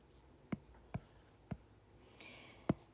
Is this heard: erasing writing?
yes